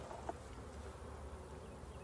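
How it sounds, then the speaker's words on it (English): Honeybees buzz steadily around a full production hive during a hive inspection, a dense, continuous hum close by with no voices over it. "That bee's trying to sting me."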